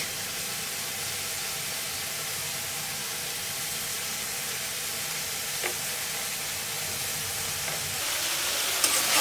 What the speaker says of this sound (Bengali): মশলা ভালো মতন কষানো হয়ে গেছে